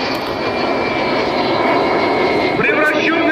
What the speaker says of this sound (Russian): M-55 in the sky, hero of Russia, Oleg Щепетков.